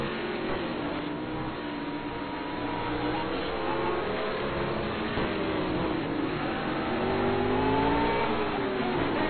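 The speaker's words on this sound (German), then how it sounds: "ein leichter Drift von Carsten Willem, da muss ja Dominik auch aufpassen, dass er eben da nicht reinfährt." GT Masters race cars circuit racing in 2012, engines droning and revving continuously at mid distance with shifting pitch as the cars accelerate, steady and fairly loud, with no clear speech.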